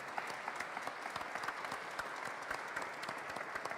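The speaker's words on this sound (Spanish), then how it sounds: "el padre Alfredo Arriola Aguayo, por lo cual pido un aplauso para él en este recinto universitario." Dense, even applause from a crowd in a university hall, a continuous patter of many hands clapping throughout at moderate distance.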